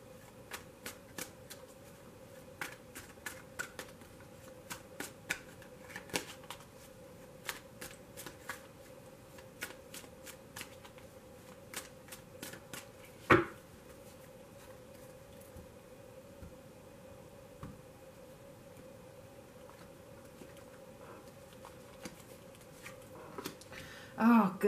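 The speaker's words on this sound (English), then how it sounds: "I've pre-shuffled this deck, so I'm only going to shuffle it for a moment." Cards of a Thelema tarot deck are shuffled in quick, crisp riffling bursts that repeat for a while, close and fairly quiet, with a sharper slap midway and another near the end.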